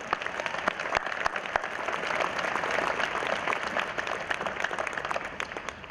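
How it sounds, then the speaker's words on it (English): A commencement audience applauds the bagpipers with sustained, dense clapping that swells slightly in the middle and holds steady throughout, with no voices. "Let's give a round of applause to them."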